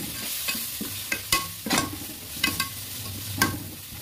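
Ginger garlic paste frying in a biryani pot, a steady sizzle broken by sharp scrapes and knocks of a spoon against the metal, close and fairly loud with no talking.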